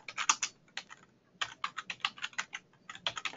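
Someone types on a computer keyboard in quick bursts of crisp key clicks separated by short pauses, close and fairly quiet, with no talking.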